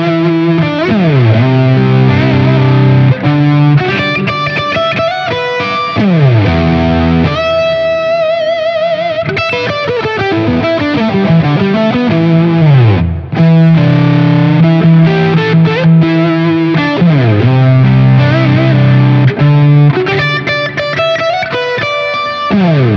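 High-gain electric guitar on the bridge pickup of a PRS 594 Hollowbody, driven through a BK Butler tube driver stacked with a Vemuram Jan Ray overdrive, playing fluid lead lines with sustained bends and fast runs, loud and saturated.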